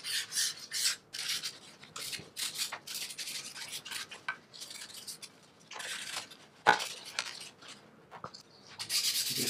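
Close, quiet hand sanding of a Robert Johnson tribute guitar's coated finish: short, gentle rasping strokes in an uneven back-and-forth rhythm with brief pauses and a faint knock, no voices.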